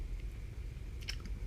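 Close, crunchy chewing of a banh mi filled with egg, meat roll, pâté and cucumber, a few soft crackly bites standing out against a low background rumble.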